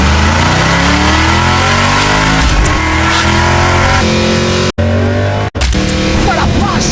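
A Shelby-prepared Mustang V8 engine revs loudly and continuously, its deep harmonic roar rising and falling through several throttle blips, with two very brief cutouts near the end.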